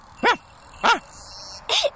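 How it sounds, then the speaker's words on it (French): A small dog gives three sharp, high yips about half a second apart, close and loud, with no talk over them. "Qu'est-ce que t'as aboyé?"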